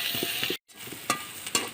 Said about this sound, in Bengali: তো এখন শুটকি দিয়ে 2 মিনিটের মতো ভেজে নেব,